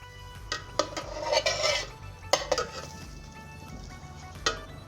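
Pancake being flipped in a pan at home: a few clinks and scrapes of utensil against the pan, with soft sizzling underneath, nearby and moderately loud, no talking.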